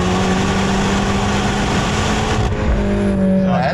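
A Mini car's engine drones loud and steady on a tight, twisty road, holding a strong hum with a slight shift in pitch near the end.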